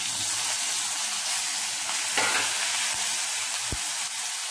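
Curry leaves hit hot oil while tempering for green mango chutney, giving a loud, steady sizzle and crackle throughout with a few brief pops.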